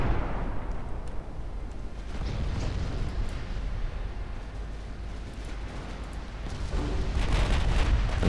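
Naval battle in Ultimate Admiral Dreadnoughts with battleships, an Iowa against Mega-Yamatos, trading fire: a continuous heavy rumble of distant gunfire and explosions, with louder booming bursts swelling near the end, no talk.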